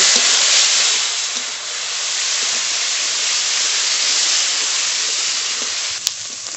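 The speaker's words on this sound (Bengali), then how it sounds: "তেল ভালো করে গরম হয়ে গেছে লবণ হলুদ মাখানো চিংড়ি মাছ দিয়ে দেব ভালো করে ভেজে নেব" Shrimp coated in salt and turmeric frying in hot oil, giving a loud, dense, continuous sizzle that starts strong, eases slightly, then holds steady, with a sharp clink near the end. Nobody speaks.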